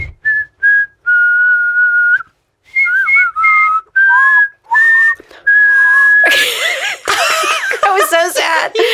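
A person whistles a tune in bright, clear notes, first with short phrases and held tones, then breaking into scattered laughter and excited voices toward the end.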